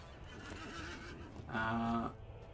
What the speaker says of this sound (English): Let's jump on a horse.